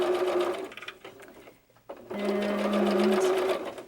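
Sewing machine back stitching a doll jacket sleeve seam, a close, loud motor hum in two runs separated by a short pause, the second run with a steadier higher-pitched drone.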